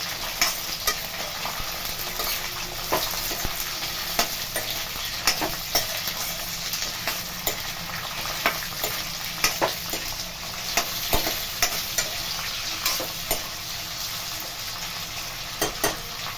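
Onion, tomato, grated coconut and peanuts fry in oil with a steady close sizzle, punctuated by regular spatula scrapes and taps against the pan, and no talking.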